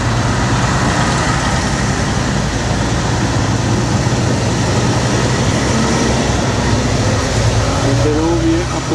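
Steady loud rumble and rattle of a train to Bari, Italy, in motion, heard from on board, a continuous roar with faint squeals near the end.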